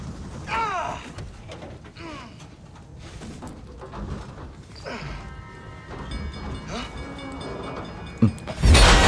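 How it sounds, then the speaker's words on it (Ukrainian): A train approaches in the racing game Need for Speed: The Run, a mixed rumble and clatter with knocks and crash-like hits that swell into a loud burst at the end. "Чорт, потяг!"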